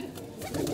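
A sick domestic pigeon in a loft coos softly, a low murmuring call building toward the end of a brief stretch with faint background noise.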